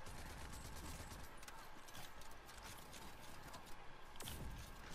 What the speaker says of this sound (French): Bon bah tout le monde tire sur tout le monde